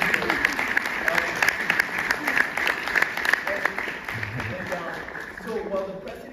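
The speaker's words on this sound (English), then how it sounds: "I would truly appreciate it if we could give like a round of applause to all of them" Applause for the students at an online neurosurgical research talk: steady, moderately loud clapping from a group that carries through and eases slightly near the end.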